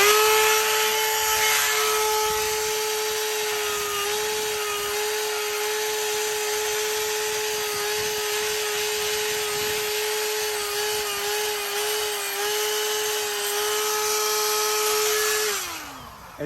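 A Dewalt 20V power tool trimming a horse's hoof whirs at a steady high-pitched whine, running continuously close by for about fifteen seconds before spinning down at the end.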